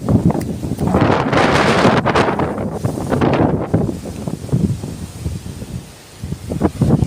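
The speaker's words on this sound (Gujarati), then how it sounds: "પવનની ગતિ સ્પીડથી વધતી જાય છે" Strong wind ahead of rain buffets the microphone in loud, roaring gusts that rise and fall, easing briefly near the end before surging again.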